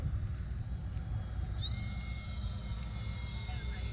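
A FT Freedom Fox foam RC airplane flies in a crosswind, its electric motor giving a steady high whine over constant wind rumble throughout.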